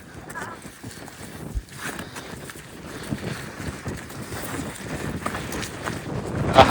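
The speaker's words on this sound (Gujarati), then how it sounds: "પવન બીજો ફફડાટી બોલાવે છે" Gusty wind on a hilltop in the Peak District, England, buffets the microphone in rough, rumbling bursts that grow stronger toward the end, with faint voices underneath.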